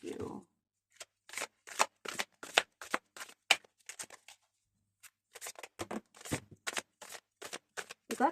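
Tarot and oracle cards shuffled by hand in a long series of crisp, close riffling bursts and flicks, irregular in rhythm with short pauses between, with a brief voice at the very start.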